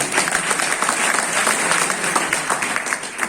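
A crowd at an RCM business gathering breaks into loud, dense applause, many hands clapping steadily and evenly throughout with no pause.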